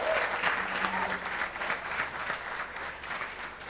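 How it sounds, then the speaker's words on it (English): Steady, dense applause from an audience at a small community event, clapping continuously at moderate distance for a participant named Herman. "Let's clap for you"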